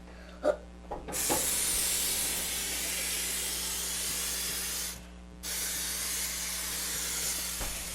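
Cooking spray hisses steadily onto a grill pan for several seconds, pauses briefly, then resumes, with a few light clicks at the start.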